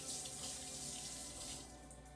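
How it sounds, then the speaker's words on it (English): Tap water runs steadily into a kitchen sink as hands are rinsed after cracking eggs for baking, a close, even splashing flow with no voices. "I'm gonna rinse my hands off."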